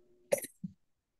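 A single short cough, allergy-related, sounds close against silence, followed by a softer second low cough or throat sound, with a faint hum just before.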